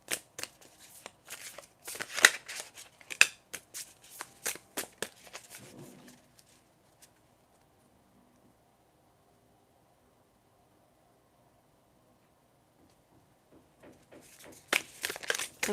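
A deck of tarot cards being shuffled, a rapid run of crisp riffling and flicking up close for several seconds, then a long near-silent pause before the shuffling starts again.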